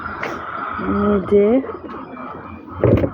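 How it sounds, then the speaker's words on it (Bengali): Domestic pigeons coo close by in short, soft, rising throaty phrases, with a brief rustle or flutter near the end. "আমার কবুতরগুলা"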